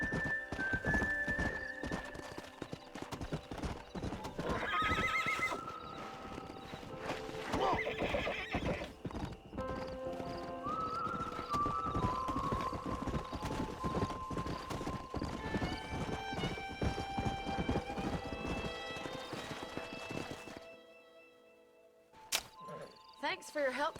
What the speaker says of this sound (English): It's my horse behind me.